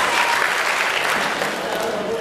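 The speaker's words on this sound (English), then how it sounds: "audience, please give them a big applause before we announce the prizes" Audience at an English contest in Hai Phong applauding contestants before prizes are announced, a dense, sustained wash of clapping, loud and steady throughout.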